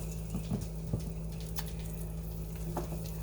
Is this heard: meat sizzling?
yes